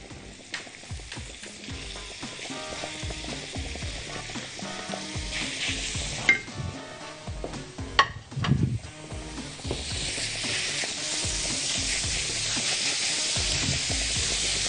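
Minced meat and onion fry for lasagna in a pan, giving a steady sizzle under stirring scrapes and a few utensil knocks, the hiss swelling louder toward the end.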